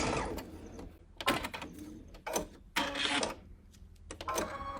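Sewing machine stitching small quilt fabric pieces with a scant seam, sounding as quick mechanical rattling bursts of about a second each, separated by short pauses, fairly close and moderately loud with no talk.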